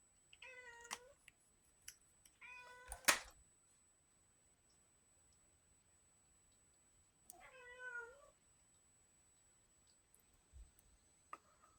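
A pet cat meows indoors in several distinct, separate calls spaced apart with quiet gaps between them, close to the microphone, along with a few faint clicks.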